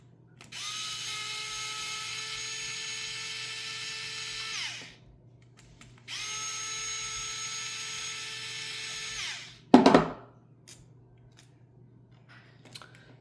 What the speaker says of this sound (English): finish it off with the screwdriver, the electric